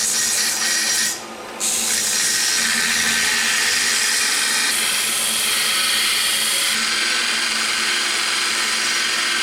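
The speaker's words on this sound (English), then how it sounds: "I'm going to go ahead and sand down this decorative piece." A power sander grinds plasma-cut slag off the edge of a decorative metal piece, a steady loud abrasive whine running continuously with one brief dip early on.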